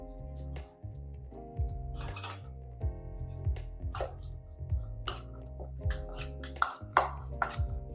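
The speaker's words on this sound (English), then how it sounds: "All right, so we're just gonna mix this up." Seasoned tofu with crushed red pepper is stirred in a bowl, a utensil clinking and scraping against the dish in quick irregular taps and rattles over soft kitchen ambience, close and fairly clear.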